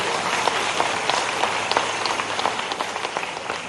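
Audience at a session-opening event at Makhanlal Chaturvedi National University of Journalism in Bhopal claps in a steady patter of many hands, filling the room at moderate loudness for a few seconds.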